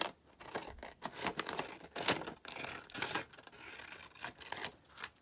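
Paper being folded and creased for a handmade envelope booklet, with repeated close crinkling, rustling and sharp crisp strokes in an irregular rhythm, no voices.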